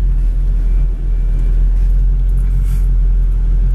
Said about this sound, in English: Dual exhaust sounds really aggressive,